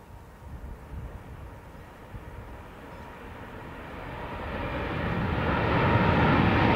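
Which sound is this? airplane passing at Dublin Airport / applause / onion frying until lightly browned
airplane passing at Dublin Airport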